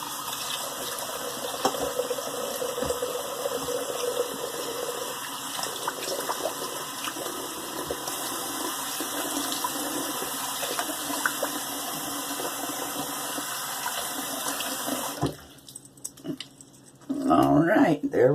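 Tap water runs steadily into a sink for re-wetting a face before shaving, a continuous close rush that cuts off near the end, followed by brief handling noises.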